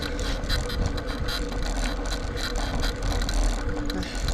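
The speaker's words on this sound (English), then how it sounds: "Sorry if my bike is kind of loud, guys." A freshly repaired, wobbly bicycle rattles loudly during a ride, a continuous dense clatter of loose mechanical parts over rushing road and wind noise, close and unbroken.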